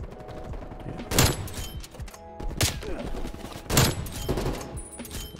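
Heavy booming shots from a ZRG 20mm sniper rifle in Call of Duty Cold War, three big blasts spaced about a second and a half apart over ongoing game noise.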